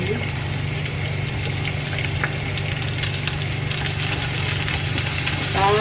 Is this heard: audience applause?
no